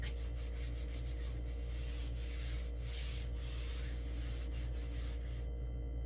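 Sanding on a car body during spoiler work, a continuous close rasping rub with a rhythmic back-and-forth swish that carries on steadily before cutting off near the end.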